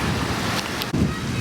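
Soft, steady wash of surf with gentle waves rolling in on Wylie Beach in Princeville, broadband and continuous, with a slight surge partway through.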